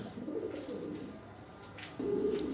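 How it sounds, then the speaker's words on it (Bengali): Close, low cooing of pigeons in soft repeated bursts, a second coo swelling near the end. "এখানে আরও এক পেয়ার কবুতর আছে"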